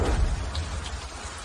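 Heavy rain pours down in a steady, loud wash with a low rumble underneath, filling the short stretch without any voices.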